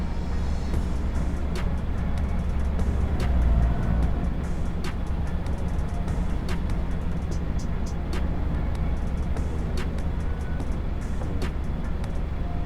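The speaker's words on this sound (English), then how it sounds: "It's going to be an absolute pain in the ass to try to bring this truck up that road." Heavy truck engine in Farming Simulator 22 on a logging crew job, a steady low rumble and drone that holds constant throughout with faint clicks above it.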